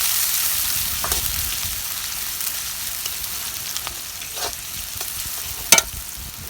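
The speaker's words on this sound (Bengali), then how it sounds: "পেঁয়াজটা ভাজা হয় সুন্দর" Onion and chili fry in hot oil on a clay stove, a close, steady sizzle with occasional soft scrapes of stirring and one sharp metallic clatter near the end.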